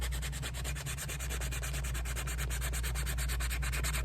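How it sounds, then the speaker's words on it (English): A handheld block sander rubs rapidly back and forth over leather Ferragamo shoes during restoration. The dry, scratchy strokes repeat in a quick, even rhythm, close and continuous with no speech. "This is just a block sander I got from Home Depot."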